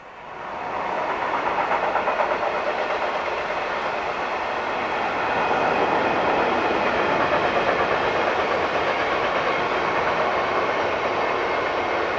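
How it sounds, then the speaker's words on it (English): Electric locomotive 187116 hauls a freight train past on a German main line, its continuous loud rumble of wheels and wagons rising quickly and staying near throughout. "This is 187116, probably on train 51474 from Gremberg to Nürnberg."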